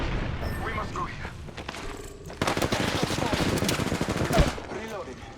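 Rapid bursts of automatic gunfire from a shooter video game, with dense repeated shots and a louder boom near the end, running under an excited player's talk.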